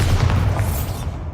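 A Bombarda spell blast in Hogwarts Legacy, a short loud booming explosion with a dense low rumble that holds for about a second, then cuts off abruptly.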